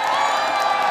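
Loud, dense cheering and whooping from a BlizzCon convention audience fills a large hall, a brief, close roar of many shouting voices lasting about a second.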